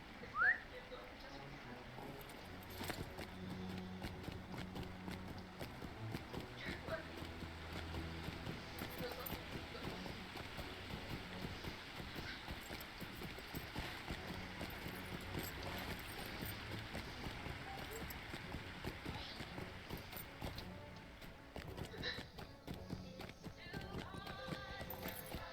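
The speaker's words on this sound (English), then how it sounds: "Oh, I could ride my goat." Goat mount hoofsteps in the video game Lord of the Rings Online, a long run of quick, even, rhythmic clip-clop that keeps going for over twenty seconds at moderate level over a faint ambient bed.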